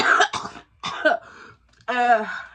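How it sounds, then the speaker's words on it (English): A person with a chest cough and asthma coughs a few times and clears their throat, close to the microphone, in short separate bursts. "I have this cough, and it's in my chest"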